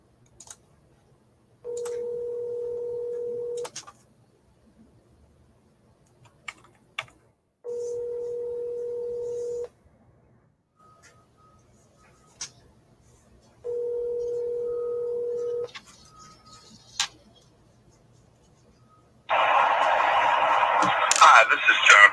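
Outgoing telephone call with three separate bursts of steady dial tone, each roughly two seconds long, broken up by short clicks and tapped keypad tones, then a harsher burst of line noise near the end.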